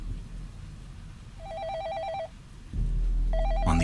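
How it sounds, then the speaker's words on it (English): Telephone ringing inside a residence at night in 1996, two warbling electronic ring bursts, close and clear, over a low music bed. "the phone inside the residence of Asia's richest man, Li Ka-shing, began to ring."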